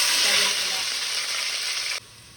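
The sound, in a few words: stirring frying food in a pan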